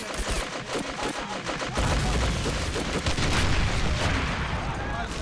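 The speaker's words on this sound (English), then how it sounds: "Shit, grenade." Gunfire and a grenade blast in the WWII strategy game Men of War: Assault Squad 2, with crackling shots first and then a heavy, booming rumble that floods the mix and lingers under continuing fire.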